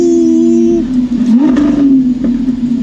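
A straight-piped Lamborghini SVJ Roadster engine revs loud and close, holding a steady high drone that swells and surges with throttle blips over about three seconds.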